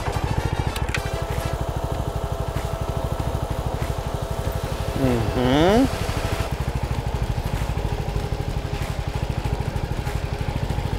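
A CFMOTO 300NK motorcycle engine thrums steadily through a riding-practice session, with a brief rising-falling rev near the middle, and an instructor speaking over the engine noise.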